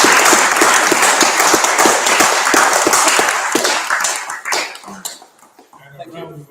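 An indoor audience at a book launch applauds after readers and speakers are thanked, with loud dense clapping for several seconds that fades into a few scattered claps and murmurs at the end.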